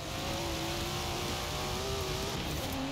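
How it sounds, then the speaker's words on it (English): A Datsun drift car in the Forza Horizon 4 racing game, driven toward Edinburgh, holds a steady, loud engine drone with slight pitch climbs, alone without talk. "Never heard the Datsun sound like that, have you?"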